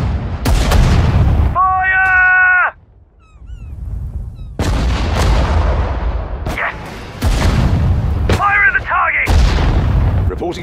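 Artillery fire in the war strategy game Sudden Strike 4, desert battle: several heavy booms at intervals, each with a sharp onset and a rumbling tail, with brief voice lines from units in between.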